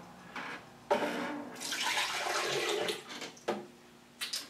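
Water is poured from a cup into a Vitamix blender jar, a splashing, gurgling stream that starts with a sudden burst, runs for a few seconds, and ends with a couple of short final splashes, close and clear.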